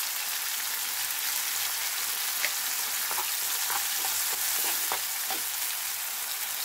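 Ginger garlic paste, tomato and onion paste sizzle steadily in a hot pan, a continuous bright crackle with occasional stirring scrapes, close and without talk.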